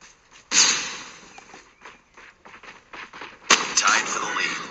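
A flashbang grenade goes off in a Call of Duty Mobile ranked match, a sudden loud broadband burst followed by ringing noise, with a second sharp blast later amid gunfire and game effects.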